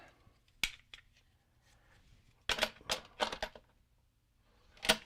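Sharp snips and crackling cuts as the end is trimmed off an RC part, a few separate clicks followed by a cluster of quick cutting sounds and one final snap, close and fairly quiet.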